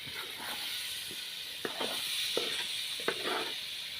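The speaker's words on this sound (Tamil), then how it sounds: "முட்டையை சேர்த்து இந்த மசாலா கூட வந்து நல்லா வந்து கலந்து விட்டுடலாம்" Quail eggs being stirred into a masala frying in a pan, giving a steady hiss of sizzling with a few sharp scraping clicks from the spoon, close by and without speech.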